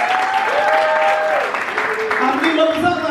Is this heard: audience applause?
yes